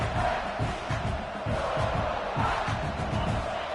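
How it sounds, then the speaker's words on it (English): Stadium crowd in the College Football 26 video game roars steadily throughout, a dense, continuous wall of cheering with no breaks and nobody speaking over it. "The roar of the crowd trying to fuel this defense to keep them pinned in their own end."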